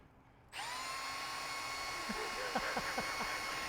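A power drill bores a hole in a part for a 1957 Chevrolet, starting abruptly and running steadily with a high whine. It is close and loud, and faint knocks come through as the bit wobbles off center.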